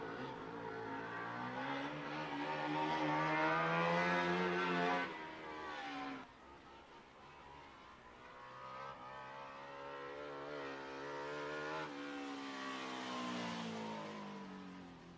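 A race car runs hot laps around the Marion County Speedway bullring, its engine swelling loudly as it sweeps past, dropping away, then building again on the next lap, heard alone without commentary.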